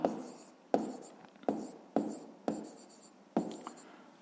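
Pen or pencil writing on paper during a fifth-grade maths exercise, heard as six short scratchy bursts of strokes at an even pace, close and fairly quiet, with no speech over them.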